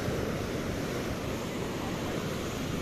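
Large ocean waves break on a beach in a steady, loud roar of surf, with wind buffeting the microphone throughout and no voices.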